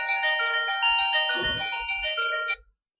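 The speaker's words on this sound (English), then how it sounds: "And my phone, I'm turning it off." A phone ringtone plays a bright electronic melody of layered tones for about two and a half seconds and then stops suddenly, with a brief low thump in the middle.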